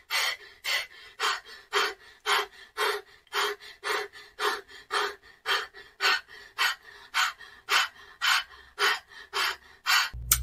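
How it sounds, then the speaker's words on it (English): A person pants during a breathing exercise for releasing tension, with quick rhythmic breaths repeating steadily at about two per second, close and clear, with no talking. "So start panting."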